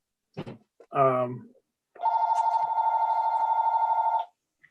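A telephone ringing unanswered at a board meeting: a short burst of speech, then a long sustained electronic ring that runs for about two seconds before cutting off.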